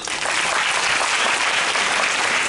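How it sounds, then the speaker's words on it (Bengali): Students in a classroom give a classmate a round of applause, a thick, even burst of clapping at close range that holds steady throughout without talk. "ওর জন্য একটা হাততালি দাও"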